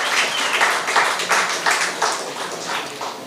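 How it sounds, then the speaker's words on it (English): A crowd at a World Heritage site anniversary ceremony in St. Lucia breaks into applause, a loud, continuous wash of clapping with a slow rhythmic pulse, close and steady throughout, tapering slightly at the end. "give St. Lucia a round of applause."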